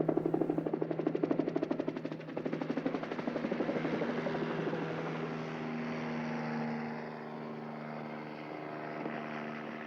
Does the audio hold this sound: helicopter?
yes